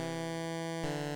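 A synthesizer plays a steady buzzy tone from a 12.5% pulse-width square wave, rich in harmonics, held continuously for about a second with a brief click as it changes.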